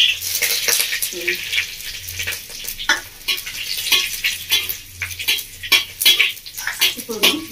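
A green chili drops into hot oil with a spoon of sugar in a pan for a drumstick curry, giving a bright crackling sizzle and stirring scrapes, with someone talking over the frying.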